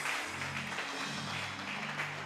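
A church congregation at a French-language worship service applauds, a steady, dense wash of clapping hands held at an even level throughout, with a faint sustained tone underneath.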